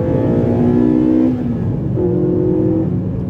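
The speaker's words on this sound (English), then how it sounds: "And the sound with cams and an inlet." A Ford Fiesta ST engine with an aftermarket exhaust, cams and inlet revving loudly up close on a dyno, a deep throaty drone with two sustained pushes of the throttle and a brief dip between them.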